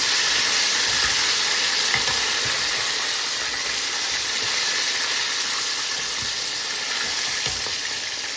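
Steady, dense sizzling of chicken frying in hot oil, with faint crackles and pops throughout and no talking.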